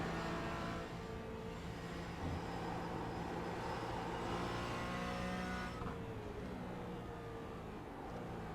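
A race car engine at Silverstone in the iRacing game, droning steadily with tonal whine and throttle changes, then easing as the revs drop, continuous and without voices.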